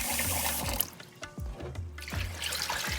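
Running tap water splashes into a bowl of rice being rinsed in a kitchen, a steady trickle and slosh broken by a few brief gurgling dips.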